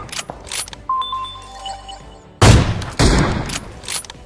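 Video game gunfire: faint clicks and tones lead into two loud, close bursts of shots, each followed by a short decaying tail.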